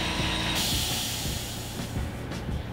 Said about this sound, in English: that sound was our air compressor going off for these air-operated machines